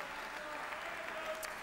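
A brief stretch of steady audience applause for a television station's technical director, even clapping with faint voices mixed in.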